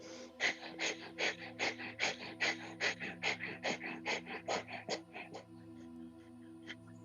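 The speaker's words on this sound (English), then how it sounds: "we're going to hold here with breath of fire" Breath of fire yoga breathing, with about twenty fast, forceful nasal exhalations in a steady rhythm, close and clear, then stopping into quiet for the last two seconds.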